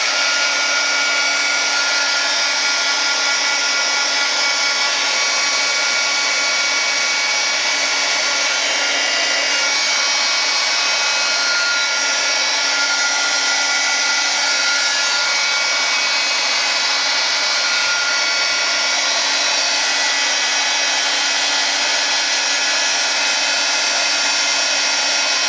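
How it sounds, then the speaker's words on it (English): A heat gun blows hot air in a steady, unbroken whir that stays loud and even for the whole stretch. "Okay, I'm gonna use the heat gun"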